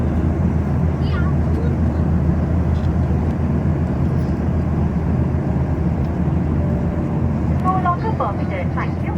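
A steady, loud engine roar fills an airplane cabin in flight from Bengaluru to Ayodhya, unbroken throughout, with faint voices now and then.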